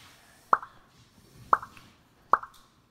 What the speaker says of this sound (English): It's like they're popping on the screen or something.